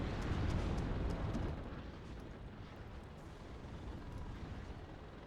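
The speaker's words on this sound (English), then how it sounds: "They are targeting the Bradley with artillery" Artillery strikes a Bradley in the video game WARNO, heard as a faint, distant rumbling blast that swells and then fades into a low, continuous roar.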